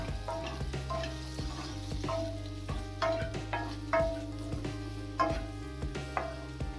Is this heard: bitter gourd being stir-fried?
yes